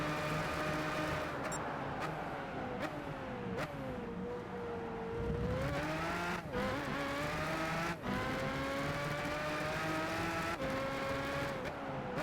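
A race car in Gran Turismo 5 accelerates hard, its engine note climbing through gears with several quick shift drops, steady and close throughout with no talk over it.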